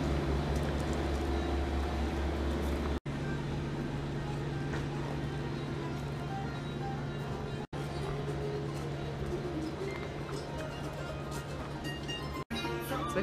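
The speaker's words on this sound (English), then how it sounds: "I don't know if you can hear me over this big truck" A big truck idles and rumbles close by outdoors, a loud, steady low engine drone with a hum that runs the whole time, broken only by a few split-second dropouts.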